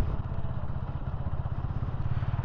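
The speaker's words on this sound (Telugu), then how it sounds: "బండి క్లచ్ వదులుతుంటే ఇలా లాగుతుంది" A 2025 KTM Duke 160 motorcycle pulling away as the clutch is released, a loud close, steady throbbing engine note with a rapid pulsing beat and no talking.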